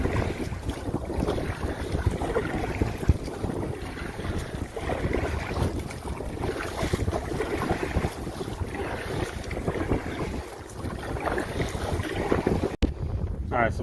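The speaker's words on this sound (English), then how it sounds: "The wind's picked up. Blowing from the southwest now." Steady, strong wind buffets the microphone over open water from a fishing boat, with a continuous roar and faint wave wash and no pauses throughout.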